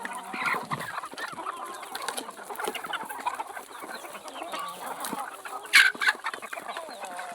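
Free-range village chickens clucking inside a small enclosed coop, steady overlapping clucks near and far with a louder burst of calls toward the end.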